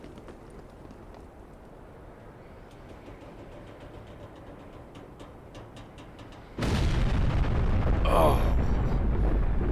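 Military explosions in Black Mesa: after a stretch of low rumbling ambience, a sudden loud, sustained blast erupts and keeps roaring, with a brief voiced exclamation partway through.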